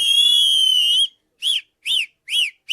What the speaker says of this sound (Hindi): सीटी के सैंपल्स होते हैं, इसे आप ऐड कर दो, छोटा सा सैंपल कट करके